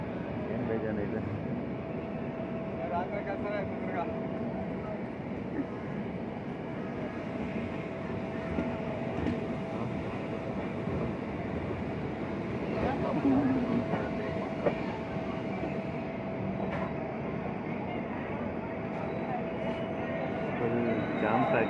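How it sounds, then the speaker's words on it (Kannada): Train 11013 from Mumbai LTT to KSR Bengaluru pulls into Mantralayam Road station, a steady close rumble of wheels and carriages with faint rhythmic clatter that swells slightly near the end. "ನಮ್ಮ ಟ್ರೈನ್ ಇವಾಗ ಮಂತ್ರಾಲಯಂ ರೋಡ್ ಸ್ಟೇಷನ್ಗೆ ಬಂದಿದೆ"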